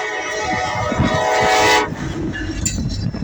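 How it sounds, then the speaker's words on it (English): Southbound Norfolk Southern freight train passing outdoors in cold weather: a rumbling, clattering roll of cars with a loud horn blast that fades, followed by continued wheel noise nearby. "here comes Norfolk Southern."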